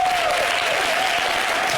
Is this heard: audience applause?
yes